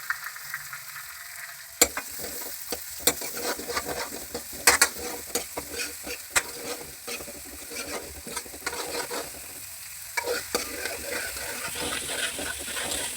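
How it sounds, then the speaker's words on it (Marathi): Ginger garlic paste and onion frying in hot oil for pav bhaji, a steady sizzle broken by sharp spoon scrapes and clinks against the pan, close and moderately loud, with no talk. "तेल तापले आहे आता त्यात मी मस्त आलं लसूण टाकते"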